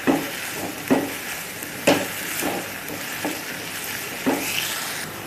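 Tomato and dried fish (sukat) chutney being stirred in a pan: a soft, continuous sizzle punctuated by about six rhythmic scrapes of a spoon against the pan, spaced roughly a second apart.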